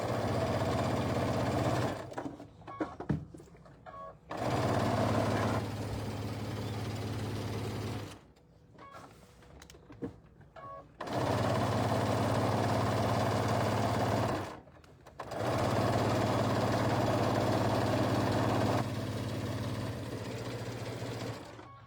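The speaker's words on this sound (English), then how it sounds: "So we're just going to sew like 1/4 inch from the edge" A sewing machine runs in several long bursts, stitching a quarter inch from the edge of a quilted table runner, with a steady mechanical hum broken by short pauses and soft handling noises between runs.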